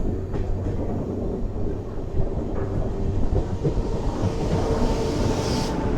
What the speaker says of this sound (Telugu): ముంబై ఎల్టీటీ తిరువనంతపురం నేత్రావతి ఎక్స్ప్రెస్ అంటే నేత్రావతి ఎక్స్ప్రెస్